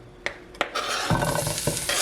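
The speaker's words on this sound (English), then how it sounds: "Sizzle, sizzle. Just a little sizzle." Onions sizzle in a hot pan with crackling hiss, punctuated by a couple of sharp scrapes from stirring.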